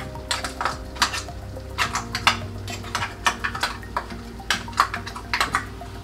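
Ground coconut paste being added to a pan for a Kerala pacha theeyal curry and stirred, with a steady series of clinks and scrapes from a spoon against the pan, a faint sizzle underneath and no talk.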